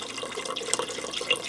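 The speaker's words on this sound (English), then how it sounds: "Now I have a 4-cup box of chicken broth I'm going to add to this to give this soup more" Boxed chicken broth, four cups, poured into a pressure cooker pot for chicken noodle soup, a steady liquid splash and trickle at close range with a couple of brief brighter splashes, no talking.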